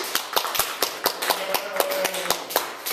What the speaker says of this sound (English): a round of applause for our presenters today